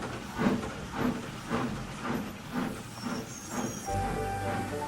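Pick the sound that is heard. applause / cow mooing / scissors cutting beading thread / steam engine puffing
steam engine puffing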